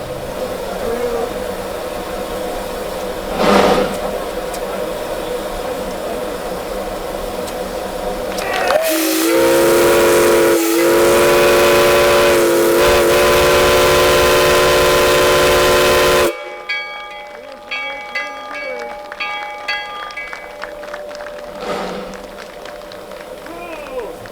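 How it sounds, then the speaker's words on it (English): A loud, sustained whistle from the Hillcrest #1 Shay steam locomotive blasts for several seconds amid crowd murmur and outdoor noise at a ribbon-cutting event, then cuts off as chatter continues. "What about that whistling bell?"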